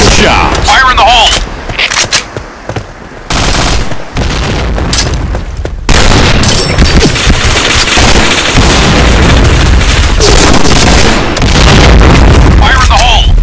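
Repeated grenade explosions with bursts of gunfire in the Point Blank shooter, loud and chaotic with short gaps early on, then a sustained barrage, while voices shout over the combat.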